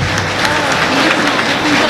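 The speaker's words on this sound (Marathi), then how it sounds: "टाळी वाजवा एकदा" An audience at a Marathi devotional kirtan claps together, producing a dense, continuous patter of applause. It is loud and close, with some voices mixed in.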